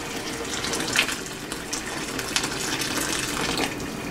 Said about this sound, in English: And slowly pour it.